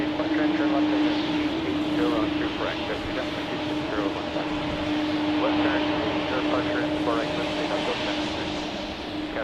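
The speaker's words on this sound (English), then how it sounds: "Engine startup and now rolling." An airplane's engines run at Salt Lake City airport as it starts up and begins rolling, a loud, steady droning roar with a constant hum underneath that holds level throughout.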